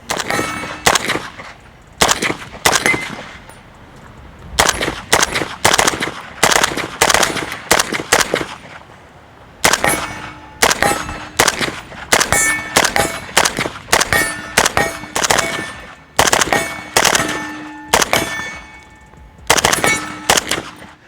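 A suppressed Stenzel SAK-21 AK rifle fires in loud, sharp bursts and single shots with metallic clangs, coming in irregular groups separated by short pauses.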